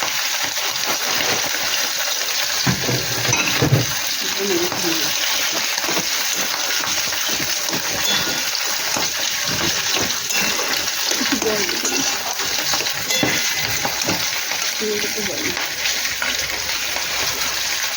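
Shrimp frying lightly in a pan, a continuous bright spattering sizzle with bubbling and occasional splashy pops, close and steady throughout.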